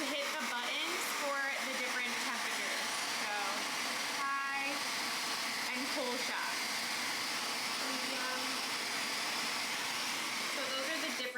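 A TYMO AirHype hair dryer runs at its highest speed, giving a loud, steady rushing blast of air that holds for the whole stretch, with faint traces of a voice in the background.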